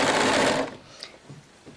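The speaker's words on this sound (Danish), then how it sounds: "Så derfor starter jeg med at lave kantlokning nu," Overlock sewing machine finishing fabric edges, a short loud whirring burst of stitching lasting about half a second, then stopping, leaving only light handling sounds.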